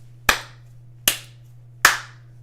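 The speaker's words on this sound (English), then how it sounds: "3 claps, no notes." Three sharp hand claps, evenly spaced about 0.8 seconds apart, each close and crisp with a quick decay, over a steady low electrical hum.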